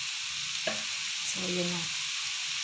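Ground beef and pork are stirred as they fry in a pan, a steady sizzle with a couple of scraping strokes, while a voice talks briefly over it.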